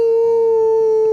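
A person imitates a wolf howl, a single sustained, loud vocal tone held steadily with a strong overtone, ending abruptly, alone without other talk.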